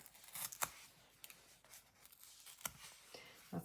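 Paper edges are torn by hand for junk journal tags, giving a few short, crisp ripping bursts with quiet rustling between them, close and faint.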